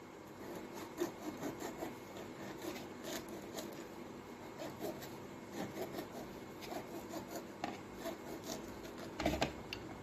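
A knife slicing through a ripe avocado, giving soft repeated scraping and rubbing cuts close by in a quiet kitchen with a faint steady background hiss.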